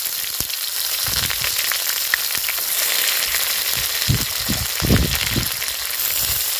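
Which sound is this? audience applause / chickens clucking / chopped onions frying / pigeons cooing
chopped onions frying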